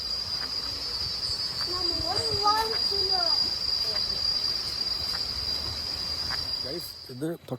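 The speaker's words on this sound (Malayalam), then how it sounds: "നല്ല ചീവീടുകൾ കരയുന്ന സൗണ്ടുകളൊക്കെ കേൾക്കാം" Cicadas drone in the forest near Emerald Pool in Krabi, Thailand: a loud, unbroken high-pitched buzz that runs through the whole stretch while a person talks briefly, then cuts off near the end.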